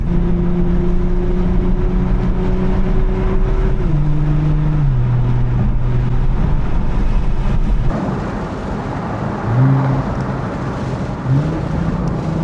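A Nissan GTR Nismo fitted with a 4-inch SBD exhaust drives at steady cruising speed, its low exhaust drone holding constant and then dropping in pitch as the revs shift, loud and continuous with no talking.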